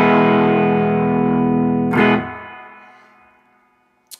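A single distorted chord on a Gibson ES-335 electric guitar with 50s wiring rings out and decays, swells briefly brighter as the tone is rolled up, with a pick scrape midway, then fades to near silence before a faint click.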